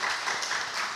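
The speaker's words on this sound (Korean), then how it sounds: "격려 우리 박수 한번 주십시다" Congregation clapping together during a Sunday church service, a steady, dense wash of applause lasting about a second with no voices over it.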